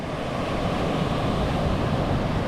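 Sea waves near a homestay on the Zambales coast make a steady, broad wash of surf with wind, loud and continuous throughout.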